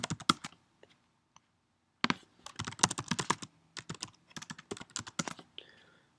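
Typing on a computer keyboard, close and clear: a few isolated key clicks, a pause, then rapid bursts of clattering keystrokes in quick irregular runs, with no one talking.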